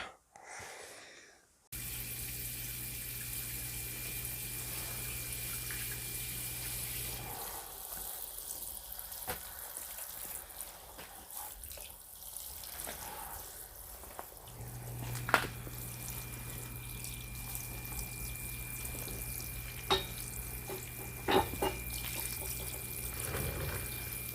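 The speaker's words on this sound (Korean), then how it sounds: "차분히 가라앉을 수 있도록 물 분사량이 작게 해가지고 예, 위에서부터 아래로 전체적으로" A gentle, low-volume water spray falls over the fresh soil of a repotted azalea in a pot, moving from top to bottom. The soft hiss runs steadily and close, with a brief pause and a few faint clicks and drips.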